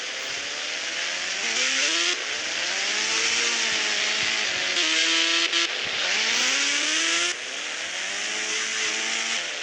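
A motorcycle engine in an Indian bike driving video game revs up and down continuously, its whining tone rising and dipping through gear changes, loud and close with no talk.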